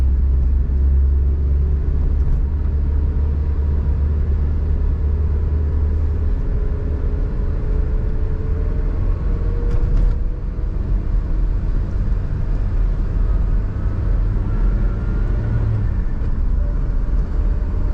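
A Suzuki Jimny 1.3 rolls through city traffic held in second gear behind a truck, its steady low engine drone and road rumble continuous and close throughout.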